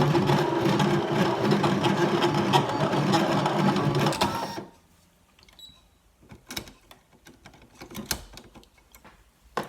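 A Brother ScanNCut cutting machine draws with a felt pen for about four seconds, giving a busy close whirring and buzzing of motors and carriage movement, then stops abruptly and leaves a few faint clicks and knocks.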